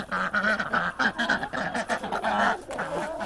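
Hungry ducks quack loudly and continuously at feeding time on a farm with chickens and goats nearby, a dense overlapping chorus of close, raspy calls.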